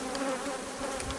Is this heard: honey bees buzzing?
yes